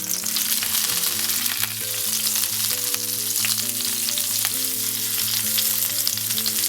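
A burger patty fries in a hot pan for a brioche brunch burger, giving a steady, close sizzle and crackle throughout, with tonal music playing underneath.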